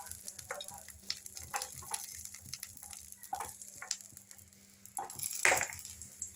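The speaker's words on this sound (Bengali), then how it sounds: "কাজু বাদামগুলো ভেজে আমি তুলে রেখে দেবো। ভাজা হয়ে গিয়েছে, এবার তুলে নেব।" Cashew nuts fry in a pan, giving a faint, soft sizzle broken by light scraping stirs and occasional taps of a utensil, with a louder scrape near the end as they are lifted out.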